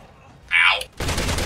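Gunfire from Resident Evil 6 arrives as a loud, dense burst in the last half second, preceded by a brief high-pitched cry or shout.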